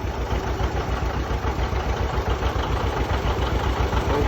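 A John Deere 70 diesel tractor idles with a steady low, knocking chug that stays even and close, with no voices.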